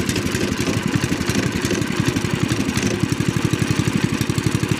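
A Sleddog Buddy's small gas engine idles in snowy backcountry, a steady close chugging putter with a regular pulsing beat that grows more even toward the end, with no talk over it.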